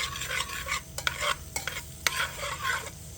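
Garlic hitting a hot buttered pan, a soft sizzle broken by a few sharp utensil clicks and stirring scrapes, fairly quiet and close with no talking.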